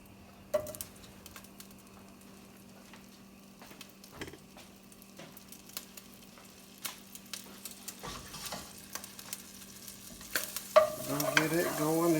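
Butter melts in a pan still coated from cooking sausage, giving a low scattered sizzle with occasional clicks and scrapes that swells into a brighter, steady frying hiss near the end.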